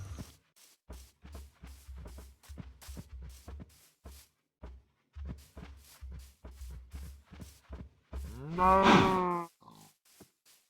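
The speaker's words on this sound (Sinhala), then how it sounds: "හරි හරක් දෙන්නෙක් නම් හොයාගත්තා." Cattle in a farm-building video game shuffle with repeated short low thuds, then a single loud, drawn-out moo near the end, close and clear against silence.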